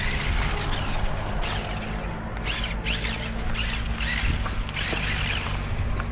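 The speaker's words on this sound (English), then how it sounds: "You hear the hovercraft in the background." A hovercraft runs in the background at a quarry, its engine giving a rough, continuous mechanical roar with whooshing surges and rattles. It stays steady and moderately loud throughout, with no talk.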